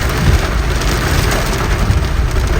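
Heavy rain pours down in a dense, continuous roar with no voices, steady and loud from start to finish.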